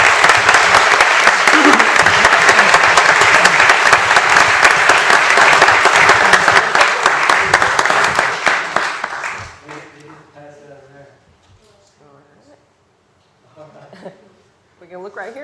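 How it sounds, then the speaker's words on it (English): An audience at a city council meeting applauds young athletes and their coach, dense loud clapping for about nine seconds that fades out, followed by quieter scattered sounds and talk. "Let's give them all a round of applause."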